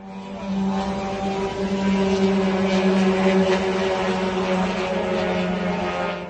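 The four-cylinder two-stroke engine of a Shahed-136 drone in flight, a loud, steady buzzing drone like a flying lawnmower that swells slightly in the middle and stays strong throughout, with no talk.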